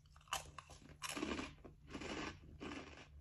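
Crunching bites into a crisp chili cheese puffed snack, several loud, close crunchy chews in bursts with brief pauses, no talking.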